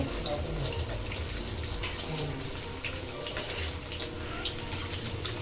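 Fish frying in hot oil for a Bhigwan-style fish thali, a steady, close, hissing sizzle that runs without a break for the whole stretch.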